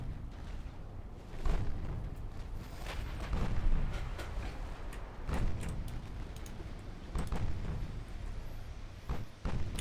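Naval guns fire in Ultimate Admiral Dreadnoughts during a France versus Spain battleship battle, with deep booming shots recurring every couple of seconds over a constant low rumble.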